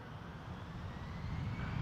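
An Air Canada jet airliner rolls for takeoff at Toronto Pearson Airport, a steady low engine roar heard at a distance, faint and continuous without voices.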